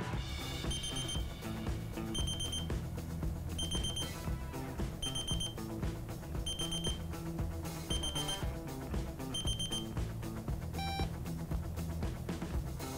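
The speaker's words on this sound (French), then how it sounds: "au bout de 120 secondes immobile, on va entendre une série de bips répétés" An Ortovox Zoom+ avalanche beacon sounds a series of evenly spaced, repeated high beeps, about every second and a half, over a steady busy background.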